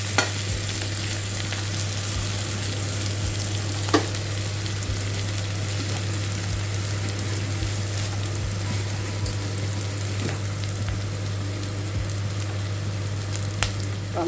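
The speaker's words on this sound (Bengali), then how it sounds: "পেঁয়াজটা মোটামুটি ভাজা হয়ে গেছে।" Onions fry in a pan as the base for a gravy, making a continuous close sizzle with faint stirring clicks and scrapes scattered through it, and no voices.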